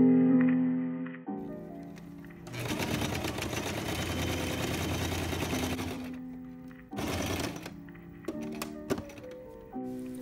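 Stitching a dress, a sewing machine runs in two loud bursts of rapid, even clatter, the first lasting several seconds and the second brief, separated by quieter handling clicks and thunks.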